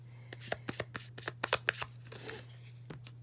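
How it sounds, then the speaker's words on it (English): A sheet of card-making paper is crumpled and wrinkled by hand. The sound is a close series of sharp crinkling crackles, bunched in quick clusters, then softer rustling toward the end. "wrinkle it up because, as you can see, when I ink it, it's gonna pick up those little crinkles"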